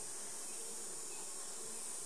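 Honeybees buzzing inside a backyard hive, a steady, dense hum that holds constant and fairly faint across the whole moment, with no talking.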